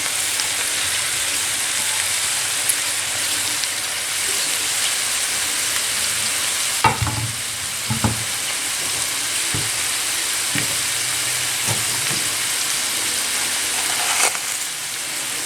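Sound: chopped chicory sizzling as it goes into a pot

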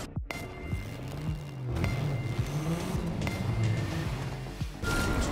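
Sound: GTR sports car engine racing on track, from a video game

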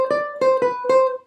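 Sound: ukulele playing a gypsy jazz triad embellishment

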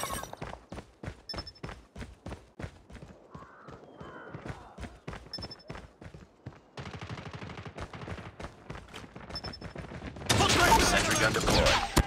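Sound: sentry gun firing in video game Call of Duty Mobile

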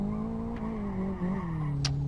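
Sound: Golf car at full throttle in video game Live for Speed

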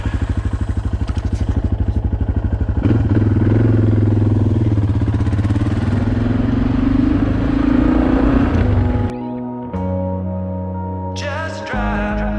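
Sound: Suzuki DR650 dual sport motorcycle riding

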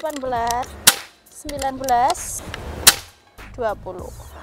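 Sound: FX Airguns 500C PCP air rifle shot

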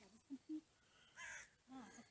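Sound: ravens cawing

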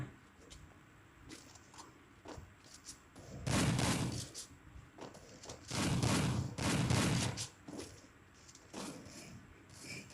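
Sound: AK rifle gunfire in the video game Garena Free Fire

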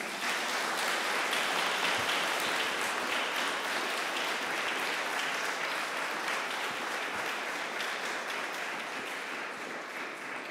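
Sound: audience applause

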